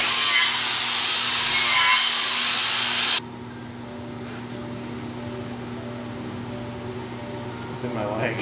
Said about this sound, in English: grinds off the mill scale